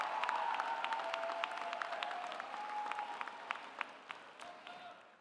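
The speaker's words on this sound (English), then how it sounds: "Graduates, please join me in a round of applause for everyone who helped get you here today" Graduation ceremony audience at a college of education clapping in a round of applause, a moderate spread-out patter of many hands with scattered distinct claps, heard alone at a middle distance.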